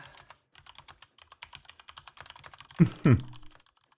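Rapid keystrokes clatter steadily on a computer keyboard in the video game Empires of the Undergrowth, ending with two louder, heavier key hits, heard close and alone.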